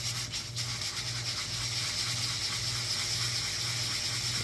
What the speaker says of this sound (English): you're going to switch to this fine grit sandpaper